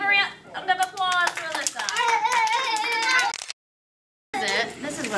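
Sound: children's party applause

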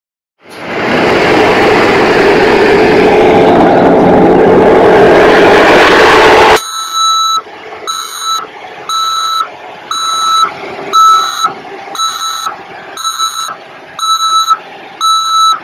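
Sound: bitumen truck arriving to chip seal a driveway

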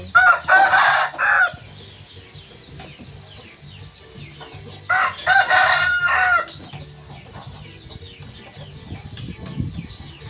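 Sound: chickens being fed

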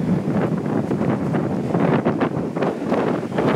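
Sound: strong wind blowing into the microphone

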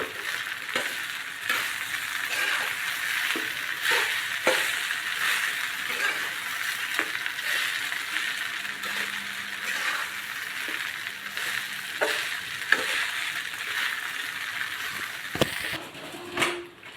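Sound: mixing poha with coriander in a pan

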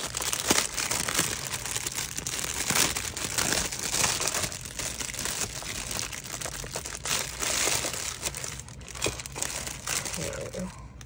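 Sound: plastic wrapping crinkling as a book is unwrapped

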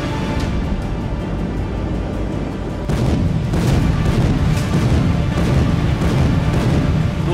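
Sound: artillery fire, weapons firing with a thunderous roar

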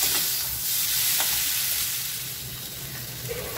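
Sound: potatoes frying in a pan

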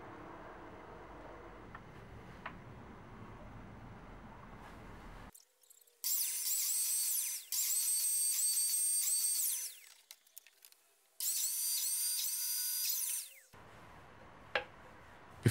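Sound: power tool cutting slots for flat dowels in wood

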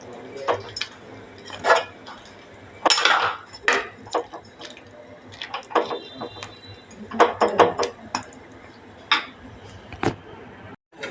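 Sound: stirring fish curry in a pot

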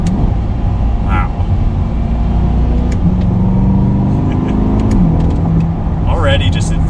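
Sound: 2020 Chevrolet Corvette Stingray engine accelerating during downshifts

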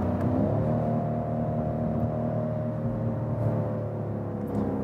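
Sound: low-frequency engine sound of a luxury sedan

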